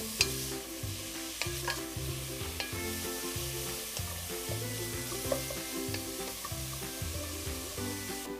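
Vegetables sauté in a pot for a lentil and mushroom stew, a soft, steady sizzle close by with repeated scraping stirs at a regular rhythm and no voices.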